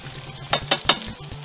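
Hash browns frying in a pan just after being flipped, a steady close sizzle with three sharp scraping or tapping utensil hits in a row over the frying.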